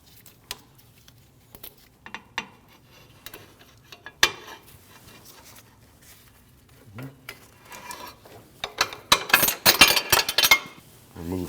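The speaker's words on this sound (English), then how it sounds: "slide your belt off" The serpentine belt slides off the 2.4L engine of a 2014-2023 Jeep Cherokee with scattered light clicks and taps, then a burst of close rubbing, rattling and scraping toward the end.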